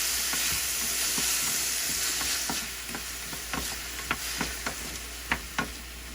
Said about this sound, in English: we have to do is just saute them for a minute